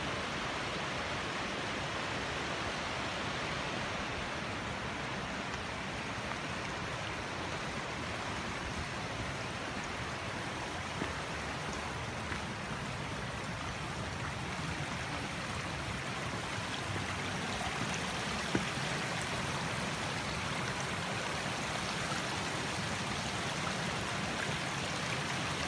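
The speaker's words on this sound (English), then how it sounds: "Coming into the Fryingpan Creek crossing." Fryingpan Creek rushes steadily at a trail crossing in the mountains, a continuous broadband wash of flowing water, fairly close and unbroken, with no voices.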